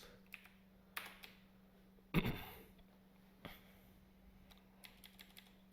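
Soft, quiet keystrokes on a computer keyboard while editing a WordPress file, irregular clusters of taps with a louder clack midway and a low steady hum underneath.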